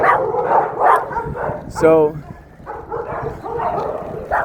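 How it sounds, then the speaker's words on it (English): A group of dogs barks, several sharp woofs mixed in with someone talking close by throughout. "Look at all these dogs right here."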